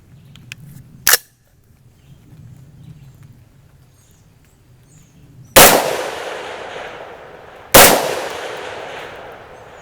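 Three sharp 6.5 Grendel rifle shots at a 525-yard target: a lighter crack early, then two loud, close blasts several seconds apart, each trailing off in a long rolling echo over a low outdoor rumble.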